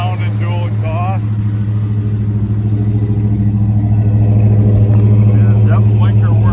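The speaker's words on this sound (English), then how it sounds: "Good sounding dual exhaust." A 1963 Ford Galaxie 500 XL with dual exhaust runs steadily close by, its deep, loud rumble continuous throughout and rising slightly toward the end, with brief talk over it early on.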